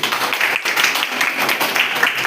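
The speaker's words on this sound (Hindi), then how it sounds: "बहुत बढ़िया, तालियां हैं सबके लिए।" Applause for the winners of a block-level quiz competition in Rampur, Kaimur, with dense, sustained clapping from a group filling the whole stretch at a fairly loud level.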